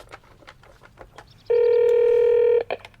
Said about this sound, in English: let me just phone Mum first